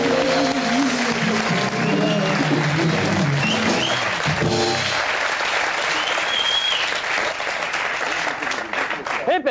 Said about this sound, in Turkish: Alkışlarınız Rasim Tan Erkar için